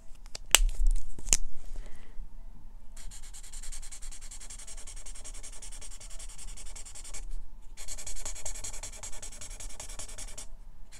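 ARTEZA Everblend art marker, fine and chisel tips, scrubbing color onto paper in steady rubbing, sanding-like strokes, close and fairly quiet, with a couple of brief taps near the start and short pauses between passes.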